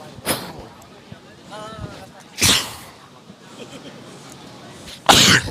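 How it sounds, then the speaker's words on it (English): Three sharp sneezes burst out at irregular intervals, close and loud, with murmured voices and faint background noise between them. "I didn't want to sneeze in you guys' ears"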